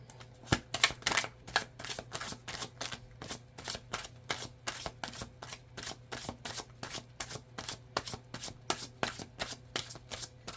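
Tarot cards are shuffled steadily at close range, a long run of rapid papery riffles and flicks in an even rhythm with no talking over them.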